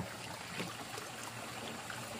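Water trickling steadily through a homemade filter into a container, a soft continuous wet babble that stays quiet and even with no voices over it.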